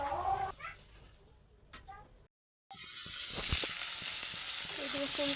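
Bengal gram dal, dried chilies and chopped ginger frying in hot oil in a kadai, a loud steady sizzle that cuts out briefly and returns stronger, with someone talking over parts of it.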